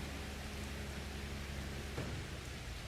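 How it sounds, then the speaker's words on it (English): Steady rain pours down in Farming Simulator 25, a dense, even hiss filling the whole stretch at constant loudness, with a brief brighter splash near the end. "we're waiting for the rain to pass"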